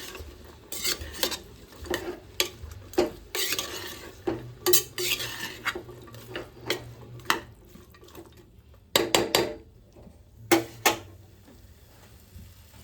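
Vegetables for veg pulao being stirred in a pot, with repeated close scrapes and clinks of a spoon against metal over a low sizzle, irregular strokes throughout and no talking.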